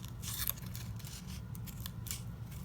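Scissors snip repeatedly through paper, cutting along the sides of a folded paper lightsaber: a series of crisp, close cuts in an uneven rhythm.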